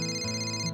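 A phone gives a short, loud electronic ringtone burst of steady, bright tones, heard alone.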